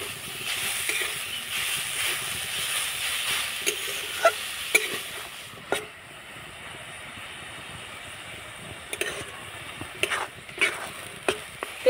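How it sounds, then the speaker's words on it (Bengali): A coconut and jaggery filling is stirred in a wok, with a soft continuous sizzle under scattered sharp scrapes and taps of a spatula against the metal, close and fairly quiet. "এদিকে আমি পুরটাকে নাড়াচাড়া করে তৈরি করে নিয়েছি।"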